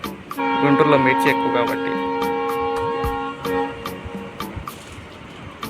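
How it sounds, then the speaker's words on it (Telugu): A train horn sounds near a container depot in Chennai, with long sustained tones over steady rumble and someone talking over it. "ఆ ట్రైన్ సౌండ్ వినపడుతుందా?"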